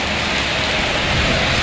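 Heavy rain pouring down in the hills of Kurseong, Darjeeling, during a hailstorm, a dense, loud, continuous hiss of drops close by with no voices.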